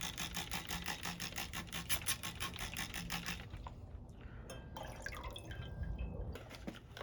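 Water splashes and drips while a gold refining vessel is rinsed out, with a steady run of liquid noise for the first few seconds, then scattered drips and small clinks.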